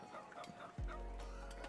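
Chicken clucks in short bursts, fairly faint, followed by a low rumbling thump that lingers under the rest.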